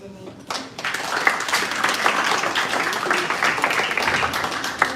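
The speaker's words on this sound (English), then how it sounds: "Let's give Chloe another round of applause." Audience applause at a school speech contest, a dense, steady crowd clapping that swells after a brief quiet start and carries on evenly, with faint voices mixed in.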